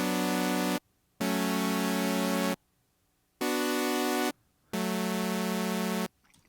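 Sustained chords ring out in four separate blocks, each held steadily then cut off, with short silences between them; no talking.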